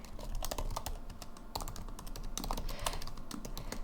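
Fast, steady typing on a computer keyboard while writing p5.js code for a tic-tac-toe game, a dense run of close clicking keystrokes with no voice.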